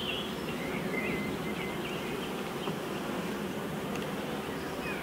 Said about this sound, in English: You get them bees off of there.